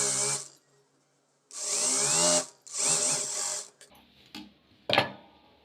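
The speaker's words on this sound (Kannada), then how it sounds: "ಲೈನಿಂಗ್ನ ಈ ರೀತಿ ಇಟ್ಬಿಟ್ಟು ಇಲ್ಲಿ ಸ್ಟಿಚ್ ಮಾಡ್ಕೊಳ್ಳೋಣ" A sewing machine stitches the lining of a puff sleeve in short loud bursts separated by pauses, each run whirring steadily up close before stopping, followed by a few sharp clicks.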